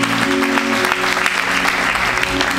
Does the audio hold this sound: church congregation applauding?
yes